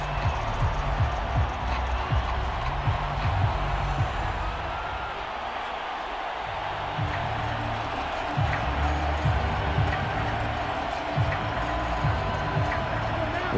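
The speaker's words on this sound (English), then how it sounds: "This crowd turning up the decibel level." A stadium crowd at an NFL game between the Minnesota Vikings and Green Bay Packers keeps up a broad, steady roar from a distance, with commentators talking over it throughout.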